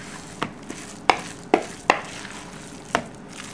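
A spoon stirring mustard and lemon juice dressing in a large mixing bowl gives a few sharp scraping clicks against the bowl at irregular intervals over a soft wet swishing, close and quiet.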